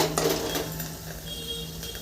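A metal spatula scrapes and clinks against a frying pan while it breaks up tomatoes in hot oil. The strokes are a few light, close metallic taps and scrapes, with no voices.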